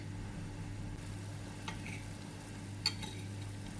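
Faint bubbling and light sizzling from a pot of boiling curry with lemongrass, galangal and kaffir lime leaves, with a couple of soft splashy clinks as chicken is dropped in; no voices.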